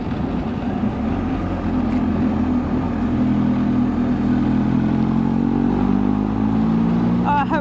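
A motorcycle in dynamic riding mode runs steadily on a mountain road, its engine droning loud and close with slowly rising pitch under wind rush, while a rider's voice is heard over it.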